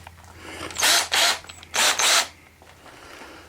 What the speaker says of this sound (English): I'll use my little angle drill and a step bit.